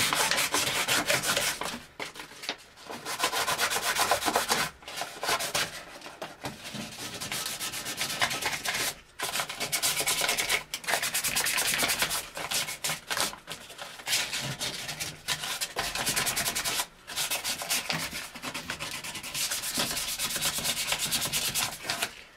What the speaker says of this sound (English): So I need to kind of clean up this pipe, this PVC pipe that I'm going to be cutting here in a little bit, so we'll have good surface to glue on.